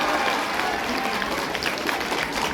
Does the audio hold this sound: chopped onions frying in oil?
no